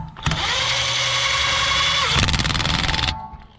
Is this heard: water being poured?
no